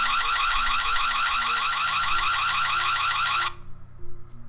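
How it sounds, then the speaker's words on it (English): A Ring Spotlight security camera's loud, piercing electronic siren wails steadily for several seconds, then cuts off abruptly, leaving quieter background noise. "Now the alarm."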